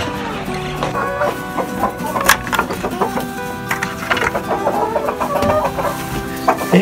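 Chicks and chickens in a backyard chicken coop, clucking and cheeping in a busy, steady stream of overlapping calls, close and fairly loud throughout.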